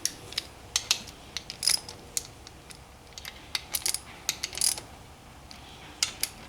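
Rapid ratchet clicks sound up close while bolts on a Yamaha Banshee billet intake are snugged down on a stock-cylinder engine, coming in short uneven bursts of sharp pawl ticks.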